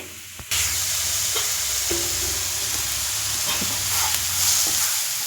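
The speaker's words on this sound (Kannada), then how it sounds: "ಸಕ್ಕರೆಯನ್ನು ಸೇರಿಸಿ ಈಗ ನಾನು ಚೆನ್ನಾಗಿ ಹುರ್ಕೊಳ್ತಾ ಇದ್ದೀನಿ" Carrots fry with sugar in a pan for a carrot and vermicelli payasam, a steady close sizzle with scraping stirs that start abruptly and carry on without talk.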